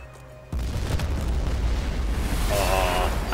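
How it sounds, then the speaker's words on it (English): A ship blows up in the video game Battlefield 4, a sudden loud blast that swells into a sustained, heavy roaring rumble filling the rest of the moment, with crackling debris over it, after a brief quieter lead-in. "Tombstone, blow that ship"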